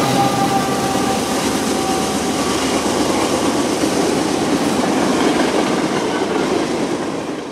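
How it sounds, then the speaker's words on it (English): A freight train rolls past in North Georgia, a loud, steady rumble of wheels and railcars with faint clickety-clack and squeal, close and continuous without any horn. "we just got whatever footage we could of the train coming by."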